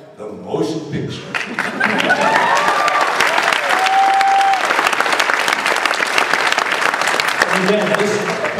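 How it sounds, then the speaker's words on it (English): Comic con crowd applauding at a panel, starting with a few voices and then building into loud, sustained clapping and cheering that holds to the end, with a voice rising over it near the close. "this applause belongs to you because you all went to see the picture"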